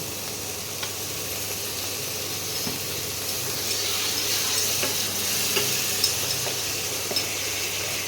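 Ginger paste and spices fry with a splash of water in a pan for a raw-potato kofta curry, giving a continuous sizzling hiss that swells slightly midway, with occasional faint taps of a spoon being stirred.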